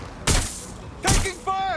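Gunfire in Watch Dogs: Legion: two loud, sharp shots about a second apart, each ringing out briefly, followed by a voice calling out in the game.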